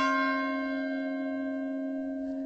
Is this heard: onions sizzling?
no